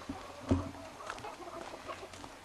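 Chickens on a small farm clucking close by, one louder cluck standing out early among softer, scattered fowl calls and background noise.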